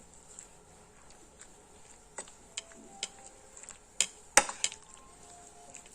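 Chicken being mixed with garlic in a bowl for chicken Manchurian, giving sparse, faint clicks and taps of a spoon against the bowl, a few sharper knocks near the end, with no talking.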